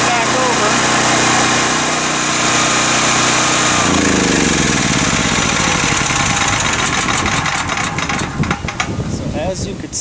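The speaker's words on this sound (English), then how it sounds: "as soon as we lost the utility power, the system figured that out, started the generator, switched power over to the generator" A Westinghouse standby generator with an automatic transfer switch cranks and starts up after utility power is lost, its loud engine roar shifting from a steady drone into a rougher, knocking run, close and dominant with no talking.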